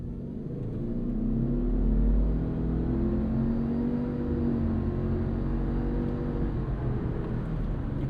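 A 2026 Subaru Outback XT with a turbo boxer engine and CVT accelerating from a stop: a loud, continuous engine drone that swells and rises smoothly in pitch, heard from inside the cabin without speech.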